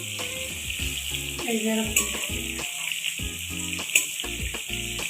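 Slices of pointed gourd fry in a pan as they are flipped, with a steady sizzling hiss, a couple of sharp utensil clinks, and a voice talking over the frying.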